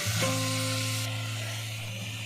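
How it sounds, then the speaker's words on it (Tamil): Steady, dense sizzling of onions and tomatoes frying in a pan, continuous and close, with a faint electrical hum underneath and no talking. "வெங்காயம் தக்காளி நல்லா வதங்கி வருது."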